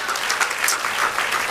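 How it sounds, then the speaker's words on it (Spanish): A church congregation applauding in praise during a worship service, steady dense clapping held at an even level from start to finish with no one speaking. "denle un aplauso al Señor"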